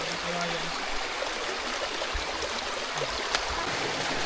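Steady rush of a flowing stream, a continuous bright babble of water close by with no voices.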